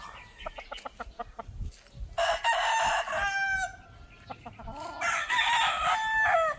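A Boston gamefowl rooster crows loudly and close by, twice in succession with long drawn-out calls, with brief clucks and farmyard scuffling in between.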